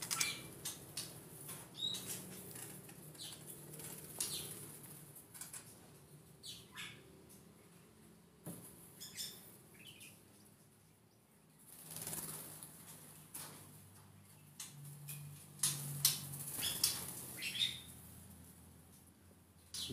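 Aviary birds being fed, with bursts of wing flapping and fluttering, scattered squawks and scratchy rustles coming in irregular clusters, close and fairly faint, without speech.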